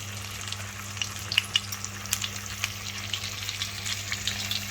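Chicken thighs frying in melted butter in a pan on an induction hob at medium power, a steady crackling sizzle with scattered sharp spits and pops, close and free of speech.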